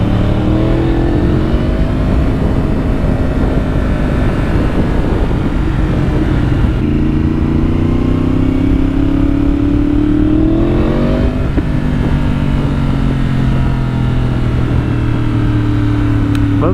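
Yamaha R1 sport motorcycle with an aftermarket exhaust pipe heard while riding, the engine note loud and steady throughout, rising and falling with throttle changes and shifts, with no talk over it.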